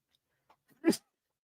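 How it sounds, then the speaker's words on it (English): A single sneeze from a tennis play-by-play commentator during a live Australian Open 2024 match stream, one sharp burst after a couple of faint breaths, fairly close and alone. "Next time I'll hit the mute button before sneezing."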